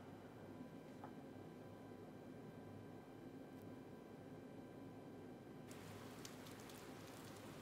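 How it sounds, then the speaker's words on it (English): Steady rain falls in the video game Persona 4 Golden, a soft continuous hiss that stays even throughout, with a brighter, heavier patter joining in near the end. "Uh-oh, it's raining."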